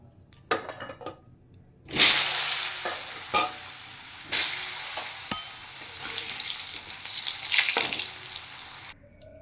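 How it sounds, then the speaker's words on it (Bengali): Potatoes frying in hot leftover fish-frying oil in a kadai, a steady sizzle punctuated by sharp clinks and stirring scrapes of a utensil, close and fairly quiet. "এবার আলু ভেজে নেব"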